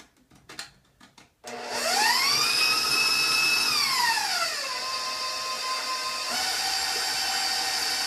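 After a few light clinks, an electric mixer starts creaming butter, sugar and eggs for a fruitcake batter. Its motor whine is loud and steady and climbs in pitch, then dips and settles into a continuous drone.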